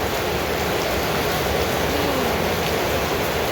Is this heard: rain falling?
yes